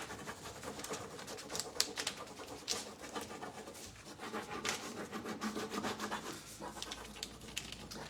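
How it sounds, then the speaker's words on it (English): Vigorous, uneven scraping and scratching as a decor transfer is rubbed hard through a reused acetate sheet. Close-up friction strokes come one after another with no one talking. "I'm just going to cover it with an old acetate sheet that I already used and rub on willy-nilly like crazy"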